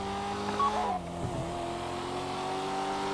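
A car engine in the video game GTA V during the Fleeca heist job, a steady droning hum that holds its pitch throughout at a moderate level, with a slight dip around a second in.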